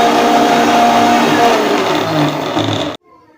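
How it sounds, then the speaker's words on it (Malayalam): An electric mixer grinder jar runs loudly at close range, grinding egg chammandi ingredients with a steady whirring roar for about three seconds before cutting off abruptly. "അതിനുശേഷം അതെല്ലാം മിക്സിയുടെ ജാറിലിട്ട് നന്നായി അടിച്ചെടുക്കണം."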